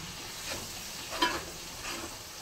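Green chillies and masala frying in a pan, a steady soft sizzle with faint stirring scrapes and one brief clink, close and with no voices.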